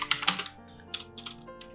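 A computer keyboard is tapped in a short burst of about a dozen crisp, close keystrokes, quick clusters broken by brief pauses, with no talk.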